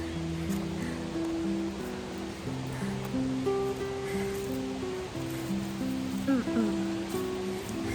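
A steady, close rush of falling water from Diyawini Falls in Sri Lanka's hills roars without pause, with a soft melodic tune running over it.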